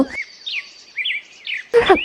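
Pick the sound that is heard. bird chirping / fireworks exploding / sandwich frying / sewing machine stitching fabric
bird chirping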